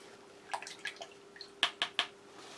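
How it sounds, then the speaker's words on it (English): A spoon rinsed under running water at a kitchen sink while preparing a Portuguese army field ration, heard as a few quiet splashes and drips, ending in three sharper splashy bursts close by. "Just rinse my spoon there."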